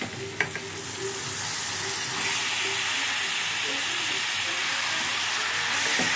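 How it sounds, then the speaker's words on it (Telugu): Chicken pieces drop into a hot pan and set off a broad, steady sizzle, with a few clinks as the meat goes in. The frying hiss swells slightly and holds close and even, with no talking. "ఇప్పుడు చికెన్ వేసుకుందాం ఫ్రెండ్స్"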